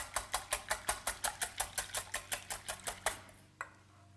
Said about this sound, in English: now that the eggs are cracked, we're just going to whisk them together